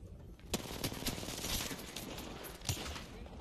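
Rapid gunfire from an Apex Legends match crackles in several sharp bursts over a dense, noisy game mix, with a few louder shots standing out and no talk over it.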